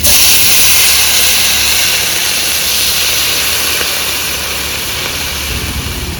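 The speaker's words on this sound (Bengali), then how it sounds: "আলু পুঁই শাক আর লঙ্কা ভেজে নিয়েছি এবার একটু পরিমাণ মতো জল দিয়ে দেবো" Water poured into a pan of fried potatoes, pui greens and chillies sends up a loud, steady hiss of steam that slowly fades over several seconds, close, with no speech.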